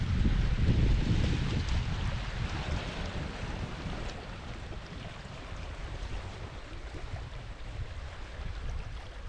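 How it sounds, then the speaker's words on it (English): Wind blowing across Loch Lee Reservoir in the Scottish hills, a loud, continuous rumbling roar with heavy gusts buffeting the microphone, strongest at first and then settling to a steady rush. "Even though it's quite windy here,"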